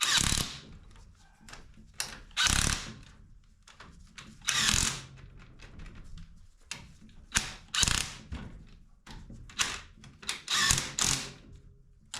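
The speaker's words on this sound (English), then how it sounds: "See, this thing even clicks like a torque wrench." A clicking wrench tightens bolts in sequence on a 1931 Ford Model A roadster after decades in a barn, giving close, sharp ratcheting bursts separated by short pauses.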